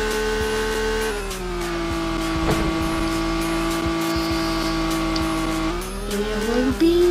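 Video game car doing a loop, its engine holding a steady droning whine that shifts pitch, with tire squeal and skidding noises mixed in, close and continuous.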